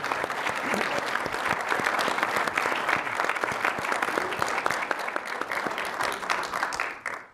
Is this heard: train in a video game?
no